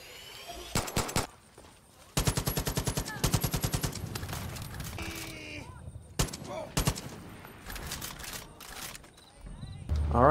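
Gunfire in the video game Far Cry 5 during a night mission in a Vietnam setting: rapid automatic bursts and scattered single shots, loud and close, with game voices heard between the volleys.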